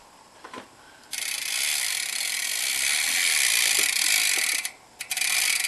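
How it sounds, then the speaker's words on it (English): A bicycle's rear hub freewheel ratchet buzzes in a fast, continuous clicking whir as the wheel spins, loud and close, starting abruptly, stopping briefly and then resuming. "And there's the hub sound."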